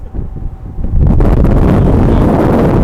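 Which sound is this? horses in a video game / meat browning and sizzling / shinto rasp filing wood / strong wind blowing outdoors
strong wind blowing outdoors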